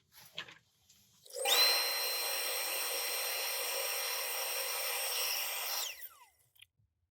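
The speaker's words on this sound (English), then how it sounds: "Let's give that a very, very light sanding now." A wood lathe spins up and runs steadily with a smooth whirring hum and faint abrasive hiss of very light 400-grit sanding on a wooden wand finial, then winds down, heard close at low level.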